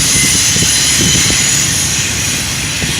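A Union Pacific train passes near Irondale and speeds up, a loud, close roar of engine and rumbling wheels with high steady tones above it, and no voices.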